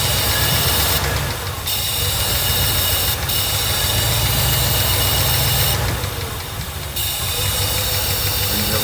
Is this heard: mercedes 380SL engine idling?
yes